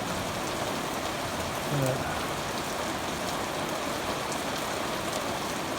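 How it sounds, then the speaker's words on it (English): Light rain falls steadily on a farm with a house, barn and garden, a soft, even hiss that stays constant throughout, with faint speech-like sounds in the background. "It's not raining that hard, but it's raining."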